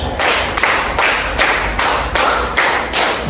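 Students in a classroom clap together in a concentration game, several loud, evenly spaced group claps sounding close with a slight spread as hands land a little out of sync.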